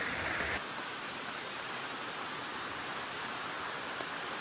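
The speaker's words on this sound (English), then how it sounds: "It just started to rain." Rain falls outdoors in a steady, dense hiss of drops, an even wash of sound with no talk and a brief brighter burst at the very start.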